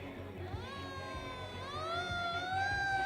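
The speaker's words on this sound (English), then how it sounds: "I also heard another fire truck, so I think that might be Blue Rock Fire Rescue tanker number 907" A fire engine siren wails at a street parade, rising in pitch and growing gradually louder as it nears, over a low crowd murmur, moderately distant.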